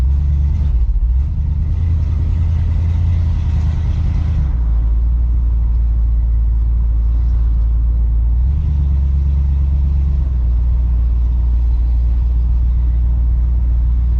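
A repaired Ford Galaxie with a rebuilt steering system cruising on the road, heard from inside as a loud, steady low engine rumble with slight shifts in load and no talking.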